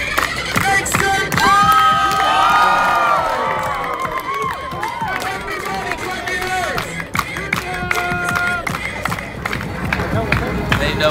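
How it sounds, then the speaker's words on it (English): A street crowd on a night sidewalk in midtown Manhattan claps and cheers for a performer, with shouts, whoops and scattered clapping mixed with loud, animated voices and busy city bustle all around. "Everybody clap. Everybody clap."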